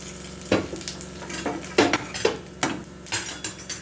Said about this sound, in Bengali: একটু জিরে ফোড়ন দিয়ে দেব।